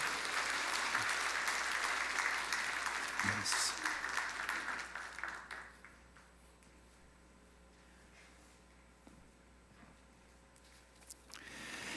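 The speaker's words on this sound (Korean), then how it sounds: "축하의 박수를 드리겠습니다." Congregation applause in a church during a Christmas Sunday service after a baptism prayer, a full burst of many hands clapping that fades out midway, leaving a quiet hall with a faint hum.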